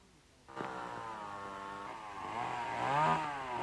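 A chainsaw cutting trees for firewood in Kiribati starts up and runs steadily, its engine note rising and wavering as it bites into the wood, loud and close with no other sounds.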